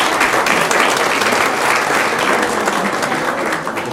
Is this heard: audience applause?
yes